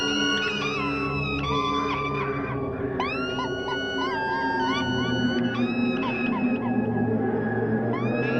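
Whale-like cries from the eerie middle section of a song rise and glide as sliding, swooping tones over a low droning bed, loud and continuous.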